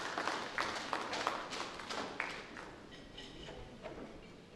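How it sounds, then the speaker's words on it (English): Summit audience applauding speakers as they come up on stage, a faint, scattered clapping with a few sharper claps early on that thins out and fades toward the end. "A round of applause, please"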